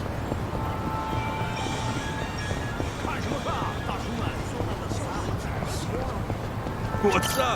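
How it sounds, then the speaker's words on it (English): A freight train rumbles past in the video game Like a Dragon: Infinite Wealth, a continuous clattering roar with steady tonal whine running throughout. Voices and brief vocal sounds mix in over the noise. "Freight train's coming through"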